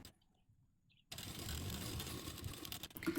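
A sewing machine stitches a blouse seam, its steady mechanical whirr kicking in after a near-silent second and running continuously at moderate level to the end.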